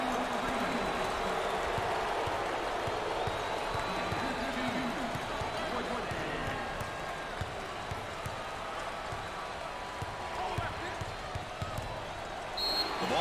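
A packed arena crowd at an NCAA March Madness first-round basketball game between Colgate and Texas roars continuously, with ball bounces and a commentator talking over the steady noise.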